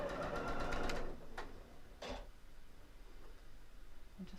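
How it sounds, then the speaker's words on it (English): Sewing machine stitching fabric quilt squares together, a fast rhythmic mechanical whir in a short burst that slows and tapers off, followed by a few soft handling clicks. "I'll just start off the sewing"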